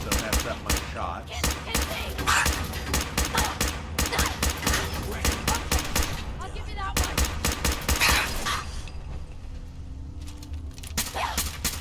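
Rapid bursts of gunfire in the Fallout 4 video game, sharp repeated shots in quick volleys almost continuously, with a person talking over the shooting before a short lull near the end.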